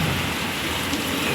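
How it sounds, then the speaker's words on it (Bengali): Heavy rain lashes down in a night thunderstorm that has lightning and wind-tossed tree leaves, making a dense, unbroken close roar with no voices. "সুন্দর বৃষ্টিটা হচ্ছে"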